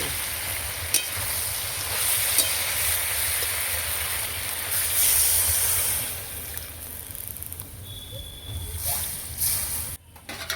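Water poured into fried masala in a pan, a loud steady sizzle and hiss lasting throughout, with faint stirring clinks near the end.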